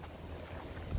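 Wind buffets the microphone in a low, rumbling roar for about a second, with a stronger gust at the end, outside the Alcazar in Segovia, Spain.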